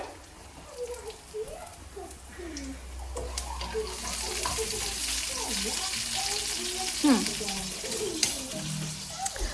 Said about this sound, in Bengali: গরম গরম বাঙালি ওয়েতে নিমকি দাঁড়াও একটুখানি পুড়ে গেছে